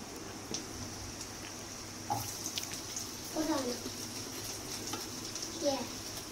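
Onions frying in a pan for a chilli chicken dish cooked by kids: a steady low hiss and sizzle runs throughout, with brief voices and clatter breaking in now and then.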